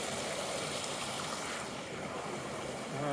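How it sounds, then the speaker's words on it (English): Mountain stream flowing out of a lake at a campsite, a steady broad rush of running water with a soft wind-like wash and no talking. "Here's the stream coming from that lake."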